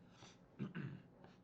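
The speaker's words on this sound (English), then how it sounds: "clear my throat." A man clears his throat quietly, giving two or three short, low, rough rasps in a row that come close together, alone with no speech.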